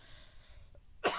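A single sharp cough from a person recovering from the flu, close and fairly loud, arriving abruptly near the end after a quiet stretch with faint background sound.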